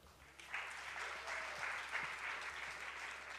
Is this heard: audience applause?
yes